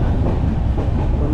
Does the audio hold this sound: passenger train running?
yes